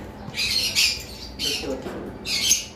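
Lovebirds and cockatiels squawk in loud, shrill bursts, a cluster near the start, another mid-clip and a final sharp call at the end, with quieter chatter between.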